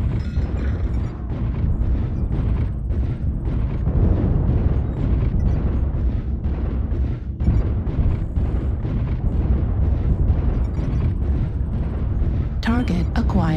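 Missiles slam in during a MechWarrior Online battle, a dense, continuous barrage of heavy booms and rumbling blasts across the whole stretch, with a sharp burst near the end; voices can be heard amid the din.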